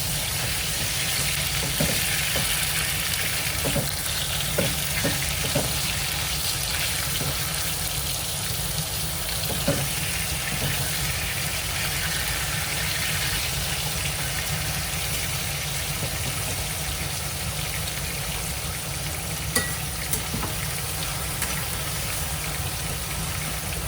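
Colocasia greens cook in a pan with a steady, loud frying hiss and sizzle that runs throughout, with a few faint utensil clicks scattered across it.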